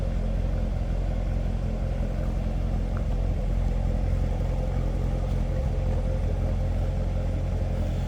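A 2019 Chevrolet Corvette Grand Sport 2LT convertible idles with a steady, low rumbling engine note that stays even throughout, heard up close without voices.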